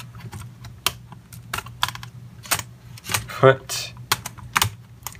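Crisp key clicks from a ThinkPad T470s laptop keyboard being tested after replacement, tapped in an irregular close-up burst, with someone speaking briefly partway through.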